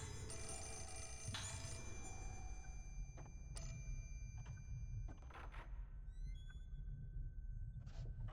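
A telephone ringing in the survival horror game Fatal Frame 4, a high electronic ring with a sustained tone and scattered thuds, faint under a steady low ambient drone.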